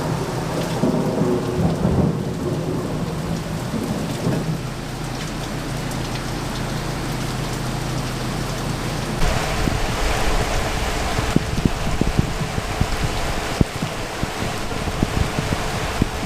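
Steady rain falling outdoors, a dense continuous hiss of drops on surfaces with low rumbles early on, constant and fairly loud throughout.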